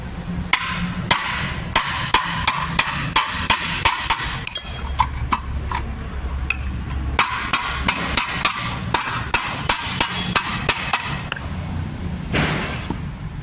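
A hammer strikes a dented exhaust silencer muffler in repeated sharp metallic blows at a steady pace, close by, with short pauses and a low background hum between strokes.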